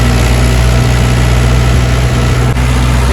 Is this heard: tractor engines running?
yes